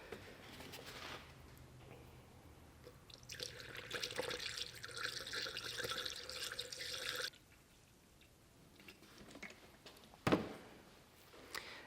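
Pre-mixed Subaru coolant poured from a gallon jug into a 2012 Subaru Forester's cooling system, a close, trickling liquid pour lasting a few seconds, then quieter dripping and a sharp knock near the end.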